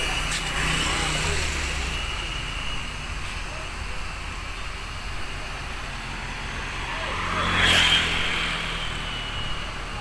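A Mercedes-Benz OH1526 coach bus with Rahayu Sentosa Skyliner body rumbles steadily nearby with outdoor traffic noise, swelling briefly louder as it passes before settling back.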